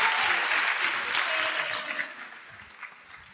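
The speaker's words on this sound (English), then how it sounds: "Let's give her a round of applause." A round of applause from the audience at a senior speech festival, clapping that starts full and gradually fades, with scattered claps trailing off at the end.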